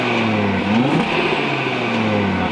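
An Audi RS3 8Y with an aftermarket exhaust in sport mode gives a quick rev that rises and falls over a steady, close idle drone, with no voices.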